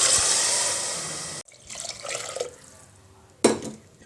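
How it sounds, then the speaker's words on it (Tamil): One and a half cups of water pour steadily into a pot for over a second, then stop; a few faint clinks follow and a short splash near the end. "ஒன்றரை கிண்ணம் தண்ணி ஊற்றிருக்கேன்"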